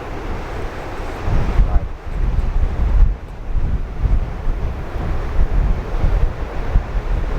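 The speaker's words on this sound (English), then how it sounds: "the wind's off the right," Strong gusting wind buffets the microphone on an open golf course, a continuous low roar that swells and dips with brief lulls, close and loud, with no talk.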